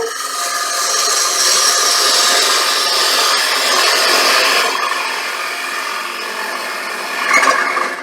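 Gouge cutting a wooden bowl on a lathe with the bevel rubbing, a steady close hissing, scraping whir that swells and fades slightly, with no talk.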